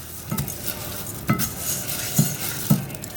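Basmati rice is stirred in melted butter in a pot, with a faint sizzle under four distinct spaced spoon scrapes and clinks, close by.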